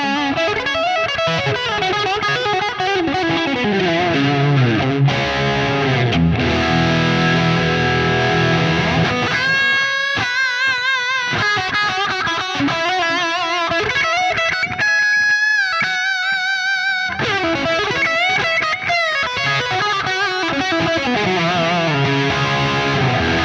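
Overdriven electric guitar through a Neural DSP Soldano SLO-100 amp plugin, playing sustained distorted chords and melodic lines with a brief thinner, cleaner-sounding passage midway, steady and loud with no talking.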